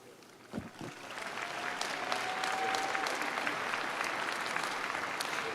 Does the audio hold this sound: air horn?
no